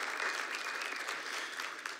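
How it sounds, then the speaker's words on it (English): Applause from a room full of people, a dense steady patter of many hands clapping that continues throughout, moderately loud. "a little clapping, that'd be awesome"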